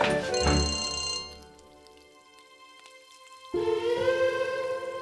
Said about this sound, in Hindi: लेकिन ये फोन उठा लो, इससे पहले कट जाए।